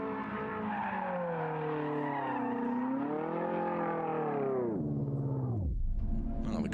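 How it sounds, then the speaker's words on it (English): A Trofeo Pirelli race car at Paul Ricard in 2015, its engine note droning loud and close, then bogging down in the wrong gear with the pitch sagging sharply before it recovers. "Oh, the car bogged down a bit there."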